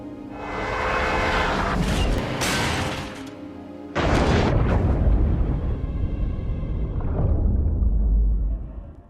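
A film's plane explosion: a loud, rumbling blast erupts and roars on, followed by a second heavy boom that fills the space with crackling, sustained destruction noise.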